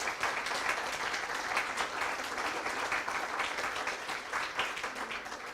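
Audience applause for four speakers at a French-language panel event on debt, steady dense clapping filling the room for several seconds with no talk over it.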